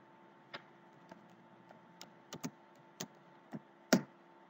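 Computer keyboard keys clicked one at a time at an irregular, sparse pace, each tap sharp and fairly close, with a steady low hum underneath and no voices.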